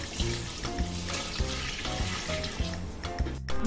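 About one and a half litres of water poured into a pot of buffalo trotters with cinnamon sticks for Lahori bong paye, a steady rushing pour running for several seconds beneath background music.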